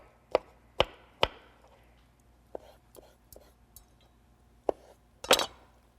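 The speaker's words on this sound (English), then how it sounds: "I'm just going to give the orange a little bit of a chop" An orange is chopped with a knife on a board, several sharp separate knocks spaced irregularly, close and clear, with faint whispery talk between them.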